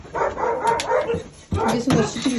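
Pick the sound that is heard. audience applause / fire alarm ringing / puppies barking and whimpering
puppies barking and whimpering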